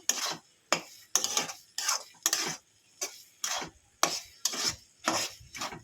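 Flat beans tossed by hand with chopped coriander leaves, giving a series of about ten separate wet squelching, rustling mixing strokes in a steady rhythm, close up with quiet gaps between them.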